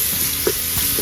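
Onions frying in a pan for methi chicken fry, a steady close sizzle with brief stirring scrapes, no voices.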